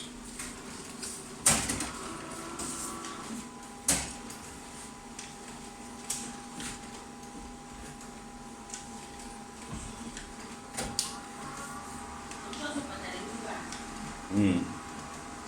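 RISO printer running test copies, a low steady mechanical hum punctuated by sharp clicks and knocks at irregular intervals, with brief speech.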